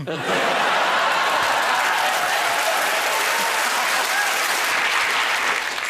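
Sustained, dense studio audience applause at a TV comedy panel show fills the whole stretch at steady loudness, with a hint of laughter mixed in.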